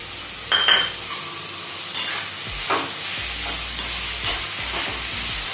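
Tomatoes sautéed in a pan for chole sizzle softly while a spoon scrapes and clinks against the pan in several distinct strokes, close by and without speech.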